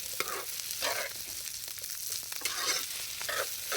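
Carrots, egg and meat fry and get stirred in a pan, with a steady close sizzle and recurring bursts of scraping as the mixture is turned.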